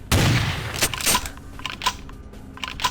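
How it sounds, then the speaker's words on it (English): Shotgun blasts fire repeatedly in Vampire the Masquerade Bloodlines, several loud sharp bangs spaced through a few seconds of game combat, with no talk over them. "I'm just blasting him with a shotgun"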